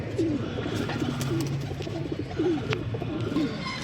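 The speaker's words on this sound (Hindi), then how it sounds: "अर्शद भाई, ये कबूतर भी आप बिलीव नहीं करेंगे" Soft, repeated pigeon coos rolling on in a steady rhythm, several birds close by with a low murmuring background.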